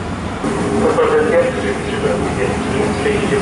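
A freight train rumbles past close by at Łowicz Główny station, Poland, in a steady, heavy roar with a metallic whine, while a voice is faintly heard over it.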